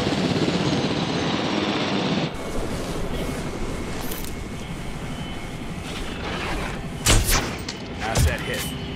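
Tranquilizer guns fire at dinosaurs in the park-building game Jurassic World Evolution, with a few sharp shots near the end over a steady mechanical hum, while a voice speaks.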